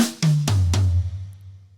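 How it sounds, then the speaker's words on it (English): Four quick drum strokes in a linear group, snare then toms, descending in pitch, close and punchy, the last tom ringing out alone. "And the group of 4, we're just playing right hand on the snare,"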